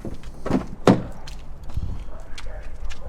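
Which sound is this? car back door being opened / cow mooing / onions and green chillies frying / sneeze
car back door being opened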